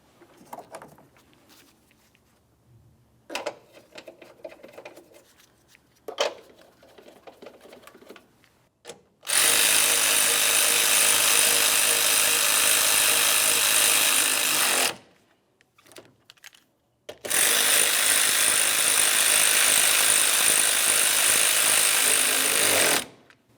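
A power tool drives two 8mm bolts while fitting the starter on a 2009–2019 Ford Flex. Two long, loud, close, rattling hammering bursts of about six seconds each follow a few quiet clicks and handling sounds.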